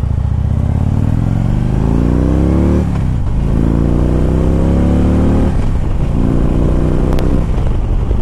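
A 2011 Harley-Davidson Ultra Limited motorcycle under way, its engine loud and close, climbing in pitch through three smooth accelerating runs with brief dips at each gear change, accompanied by a constant wind and road roar.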